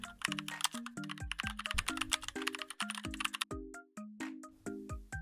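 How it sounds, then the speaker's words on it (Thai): Digits of an electricity account number are tapped into the BCEL One banking app on a phone. Each press gives a short, close tone, in a quick, uneven run of about a dozen taps with no talking. "เมื่อเราได้เลขบัญชีไฟฟ้าเรียบร้อยแล้วเราก็ พิมพ์เข้าไปเลย"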